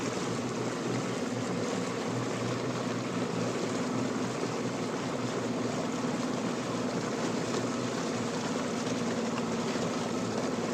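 Motorboat engine droning steadily while the boat drives across Pickerel Lake, a steady broadband rumble and water wash running unchanged and close for the whole stretch, with no voices.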